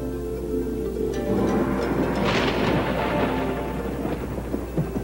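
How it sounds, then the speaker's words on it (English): A heavy crack of thunder rolls in during a storm near a harbor, swelling into a loud, deep rumble that peaks midway and slowly fades, with faint rain-like hiss beneath. "That last crack of thunder shook Theodore's stack."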